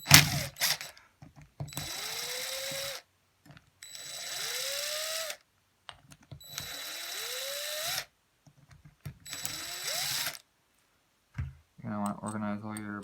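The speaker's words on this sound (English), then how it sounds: "so then I can just run them out real quick with the impact" An impact driver runs bolts out in several short bursts of whirring and rising whine, each lasting a second or so with pauses between, close up, with brief clatter at the end.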